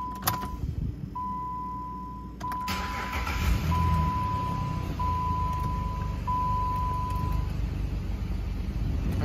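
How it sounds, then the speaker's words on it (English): A 2012 Jeep Liberty starts with a brief crank and settles into a steady, even idle, heard close by under a repeating electronic chime tone. "Let me go ahead and fire it up here for you so you can hear it run."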